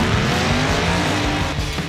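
Plastic Hot Wheels Monster Jam toy trucks race down a track in a semifinal heat, giving a continuous loud rolling, whirring rumble with scraping texture and no voices.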